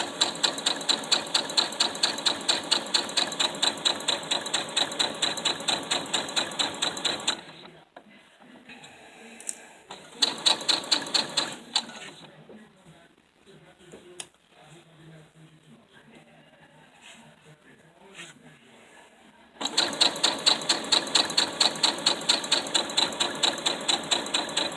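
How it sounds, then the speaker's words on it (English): A sewing machine stitching fabric and batting for a fabric kids book runs in fast rhythmic bursts, pausing in the middle while someone talks and handles the material, then starting again. "So I'm just stitching 1/4 of an inch, and I'm going to stitch it all the way around."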